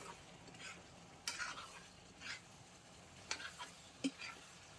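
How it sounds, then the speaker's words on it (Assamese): Pork and chayote are stirred in a frying pan, giving a soft continuous sizzle broken by a few light scrapes and clinks of the spoon against the pan, faint and with no talk. "এতিয়া মই চজিনাটো দি আছোঁ গাহৰি মাংসৰ লগত। অলপ টাইম ভাজি"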